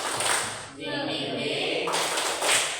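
A group claps out the rhythmic 'tepuk semangat' clap game in bursts of sharp, near slaps, with voices calling along between the claps.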